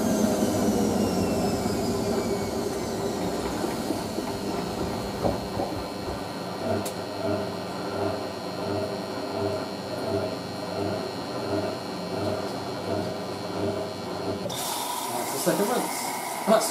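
A 1980s washing machine in its spin cycle gives a steady, loud drone with a high whine throughout, its tone changing near the end as the drum's speed shifts.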